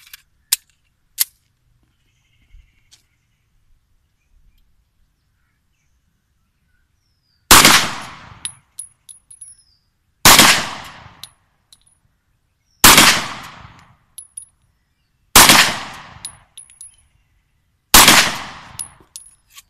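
Pistol firing 7.62x25mm rounds outdoors, five loud sharp shots spaced a few seconds apart, each ringing out with a short echo, after a quiet stretch with a few faint clicks.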